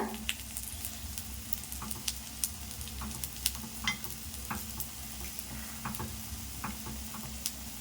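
Red banana sweet paniyaram sizzle and fry in a pan as they are turned over, a steady bubbling crackle with small ticking and scraping taps from the flipping, close and continuous.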